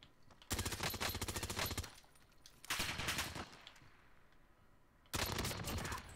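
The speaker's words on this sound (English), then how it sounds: "Who is shooting at me?" Automatic gunfire from the video game Warzone comes in three sharp, rapid bursts separated by short gaps, loud and close, with no voices.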